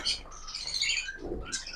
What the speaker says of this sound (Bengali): এই দেখুন খুব সুন্দর পাখি একদম চঞ্চল